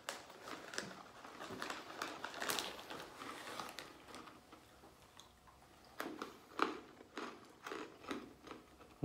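Crunchy chewing of salted sesame sticks close up, a steady series of crisp bites and crunches with brief pauses, no talking.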